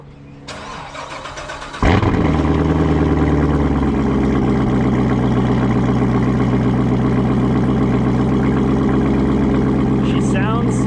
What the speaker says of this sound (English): Let's get this cold start in.